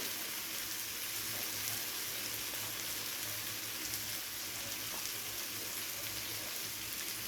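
Fish head curry with cumin powder frying and being stirred in a pan, with a steady close sizzle and crackle that never lets up and no voices.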